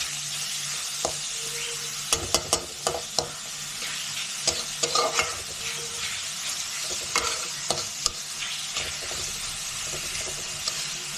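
Finely chopped onions fry in a pan in a home kitchen, a steady close sizzle with scattered clinks and scrapes of a spoon stirring through it, no voices.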